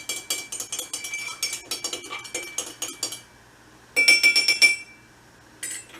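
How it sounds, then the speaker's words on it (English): A spoon stirs an absinthe cocktail with sugar in a glass, giving rapid rhythmic clinks and rings against the glass, a pause, then another bright burst of ringing clinks, close and clear with no talk. "We're going to stir it a little bit, just make sure that sugar is very well dissolved and mixed up in there"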